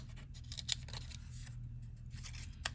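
Scissors cut out small paper letters for a craft project, soft close snips scattered over a quiet room hum.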